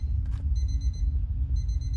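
An alarm clock rings in the video game Obsideo, with a repeating high electronic beeping pattern in short bursts over a low, steady background hum.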